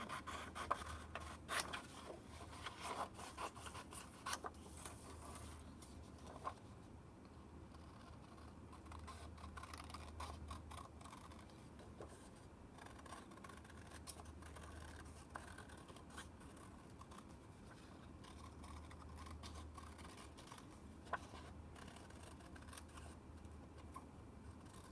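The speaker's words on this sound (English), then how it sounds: "Then you're just going to cut the circle out." Scissors snip a paper circle out of a sheet for a dream catcher loom, giving quiet, irregular crisp cuts and paper rustles close by over about twenty-five seconds, with no one speaking.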